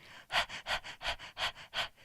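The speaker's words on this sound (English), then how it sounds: "So start by panting" Rapid rhythmic panting for a breath of fire exercise, about eight quick sharp breaths in an even pulse, close and clear with no talking.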